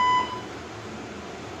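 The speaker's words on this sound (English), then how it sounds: "somebody set the alarm. I'm gonna stop it." A fire alarm gives a short electronic beep tone at the start, then fades into a steady low hum with no talking.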